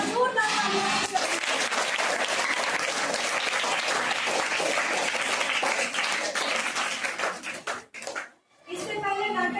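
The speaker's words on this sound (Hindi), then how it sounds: "एक बार जोरदार तालियां।" Loud, dense applause from students fills a government school seminar hall for about eight seconds, briefly dropping away before voices resume near the end.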